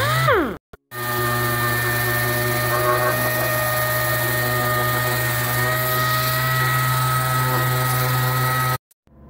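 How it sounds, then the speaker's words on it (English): A power sander runs on wooden blocks in a workshop, a loud steady high-pitched whine with strong tonal hum that starts abruptly after a brief blip, holds for about eight seconds, then cuts off. "now we'll take them to this sander."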